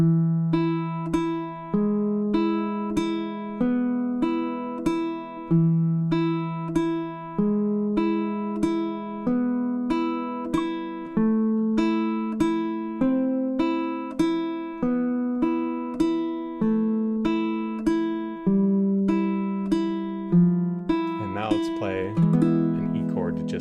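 A baritone ukulele picks the steady, repeating melody of "Malagueña" with plucked notes in an even rhythm, close and clear, with a brief burst of strumming near the end.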